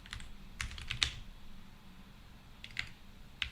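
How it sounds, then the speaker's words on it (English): Typing on a computer keyboard: a few quick clusters of close, crisp key clicks separated by short pauses, over low background noise. "Oh, maybe I shouldn't type on an HDMI capture."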